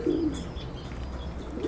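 Pigeons coo nearby in low, soft burbling calls at the start and again near the end, with a faint higher chirp and light outdoor background in between.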